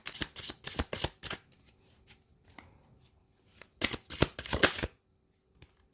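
Tarot cards shuffled in quick riffling bursts, then handled and flipped over on a table, close and crisp with a pause in the middle and no talk.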